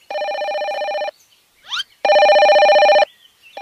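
An electronic telephone ringtone on a mountain hike, two long loud bursts of steady warbling tone separated by a short gap with a faint chirp between them.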